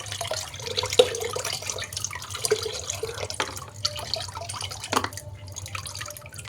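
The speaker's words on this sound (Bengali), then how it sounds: "দেখুন জলটা পড়ছে" Water drips from a plant container, scattered close drops and small splashes at an irregular pace over a low steady background hum, with no talking.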